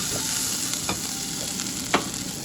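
Tomatoes fry in a pan for a black-eyed pea curry, sizzling steadily up close, as a spoon stirs them in a few distinct scraping strokes, the sharpest near the end, with no voices.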